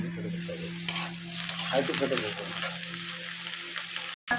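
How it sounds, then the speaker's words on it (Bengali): Snake gourd sizzles steadily in a pan, a close, even hiss with a few soft stirring scrapes and a brief dropout near the end. "এবার চিচিঙ্গাটা একটুখানি ভাজা ভাজা হতে থাকুক"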